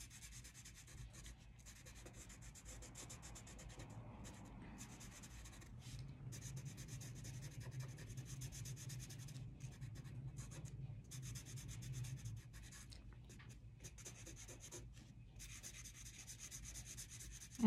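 Colored pencil rubs steadily on paper while shading a hummingbird drawing, a soft continuous scratching that runs for most of the stretch at close range, quiet and without talk.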